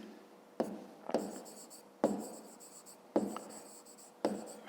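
A pen scratches across paper while a maths solution is written out. The strokes come in short, distinct bursts about once a second, close and fairly quiet, with no voice.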